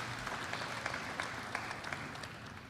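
Audience applause at the CARICOM opening ceremony, a steady wash of many hands clapping, faint and distant throughout.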